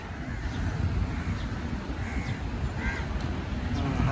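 Crows caw a few times at a distance in a park, faint harsh calls spaced out over a constant rumbling outdoor background.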